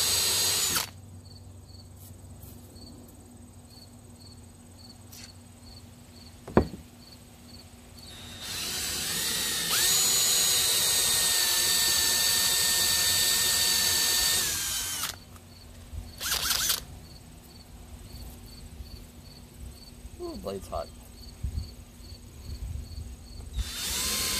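A power drill boring holes through a plexiglass arcade control panel, a loud sustained high whine for several seconds after quieter handling and a sharp knock, followed by shorter bursts and clattering as the work continues, no voices.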